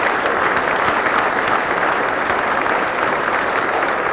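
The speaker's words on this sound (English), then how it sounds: "Would you give them a warm round of applause," Steady applause from an audience at a country football league medal count night, dense continuous clapping filling the room at even strength throughout, with no voices standing out.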